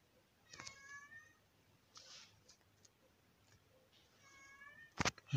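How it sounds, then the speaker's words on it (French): A cat meows several times, its harmonic calls rising and falling at moderate distance against a quiet room, with a sharp knock near the end. "Un chat qui miaule"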